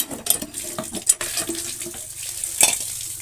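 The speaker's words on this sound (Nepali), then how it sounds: "फाइनल्ली पानी आइसकेको छ" Tap water runs and splashes in uneven bursts with clattering, close up and fairly loud, during the cold season when the water level is low.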